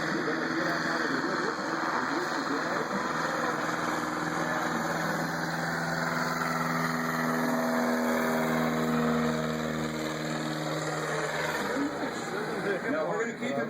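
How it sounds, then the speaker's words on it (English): A 150 horsepower light Coleman engine on a riverboat heading out along a river near Fairbanks, Alaska, droning steadily throughout with a constant hum and rumble, while a voice talks over it. "150 horsepower light Coleman engine."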